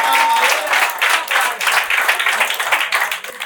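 Loud, dense applause from a mushaira audience after a recited Urdu couplet, a steady wash of many hands clapping that swells and dips slightly without letting up.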